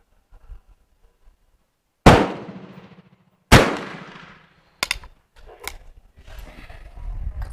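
Two loud, sharp gunshots from a Rolling Block Danish 11.7 caliber rifle, a couple of seconds apart and each with a ringing tail, followed by fainter distant shots from an outdoor range.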